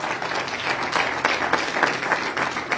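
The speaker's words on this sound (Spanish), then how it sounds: "Dale un fuerte aplauso al Señor." A church congregation breaks into steady, dense applause during a Spanish-language sermon, many hands clapping together at a fairly close, even level with no voices over it.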